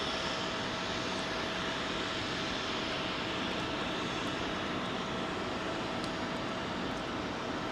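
Aircraft at London Heathrow Airport runway 27L, a continuous broad engine roar heard from a distance, steady and fairly faint throughout with no voices.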